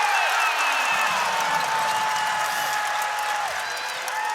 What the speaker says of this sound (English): Hokies crowd loving that.